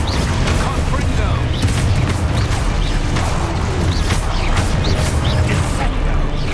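A Confringo fire spell cast in Hogwarts Legacy, giving loud, repeated booming blasts and crashes amid chaotic combat noise, with a player's voice shouting over the action.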